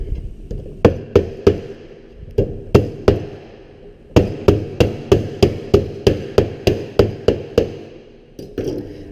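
Sharp metallic sheet metal hammer blows on a Pittsburgh corner lock seam, first scattered, then a rapid even series of strikes, loud and close.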